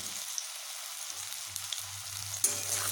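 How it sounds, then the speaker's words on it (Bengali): Fennel seeds stirred and frying in hot oil for a ridge gourd dish give a soft, continuous crackling sizzle with a low hum underneath and a brief louder scrape near the end. "মৌরিগুলো দিয়ে এইভাবে কয়েক সেকেন্ড নেড়ে নিচ্ছি মৌরিগুলো ভাজা হয়ে একটি সুন্দর ফ্লেভার বেরোবে"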